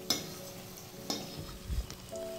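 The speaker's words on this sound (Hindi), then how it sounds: "पलट लूँगी और गोल्डन ब्राउन इसको होने तक फ्राई करना है।" Paneer frying in hot oil in a pan after being flipped, a steady close sizzle broken by a few sharp scraping clicks and a low thump of the spatula.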